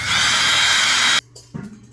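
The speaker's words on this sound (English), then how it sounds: "Now we're just going to take our bit and we're going to drill all the way through those blocks that we just installed." A power drill bores through blocks installed in a 1:72 scale model German Type 212 submarine hull, a loud steady whirring grind that stops abruptly, followed by a few brief quieter bursts.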